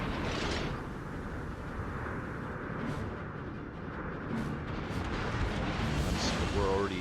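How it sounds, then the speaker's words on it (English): Warship guns firing at a destroyer in World of Warships, heavy booming shots over a rumbling battle background, with a player talking over them. "See the destroyer, I'm just taking pot shots to see if I can hit anything"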